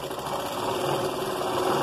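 Sewing machine stitching fabric for a child's long skirt, a steady close whirring hum throughout the short stretch with no talking.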